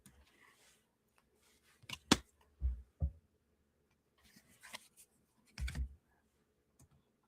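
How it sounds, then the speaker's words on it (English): Soft riffling and slapping of tarot cards being shuffled, a few quick bursts separated by quiet pauses, close and fairly faint. "I shuffle it completely."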